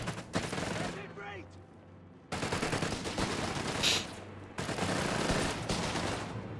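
Bren gun sections fire in a Company of Heroes 3 battle, a loud dense chatter of automatic gunfire in sustained bursts that stop and restart abruptly, over a voice talking.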